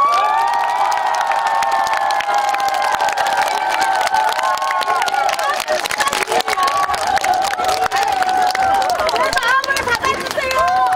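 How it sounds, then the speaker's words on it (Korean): Crowd at a Korean political rally breaks into loud, sustained applause and cheering, dense clapping with shouts mixed in, continuous for the whole stretch. "여러분들의 마음을 담아서 큰 박수를 주시면"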